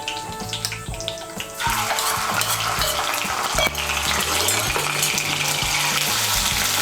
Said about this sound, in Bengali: পেঁয়াজ বাটাটাকে তেলের সঙ্গে মিশিয়ে নেব।